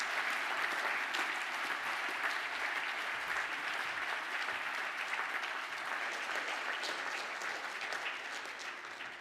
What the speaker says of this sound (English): please, for a round of applause.